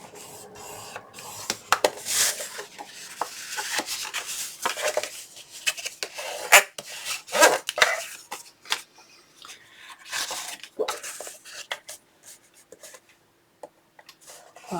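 Paper is scored on a scoring board for a craft album, with a close, uneven series of scraping, tapping and sliding strokes, bursts of handling and rustling paper, and short pauses between them.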